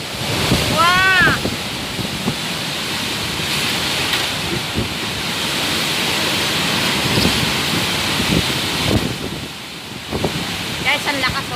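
A sudden heavy rainstorm with strong wind in Ventinilla, Paniqui, Tarlac, a loud steady roar of rain and gusting wind buffeting the microphone, with a person's voice briefly cutting in.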